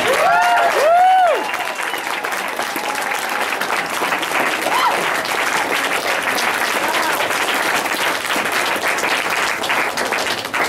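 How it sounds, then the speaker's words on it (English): Sustained applause from a large audience, dense and steady throughout, with a few cheers and whistles near the start. "give one more round of applause"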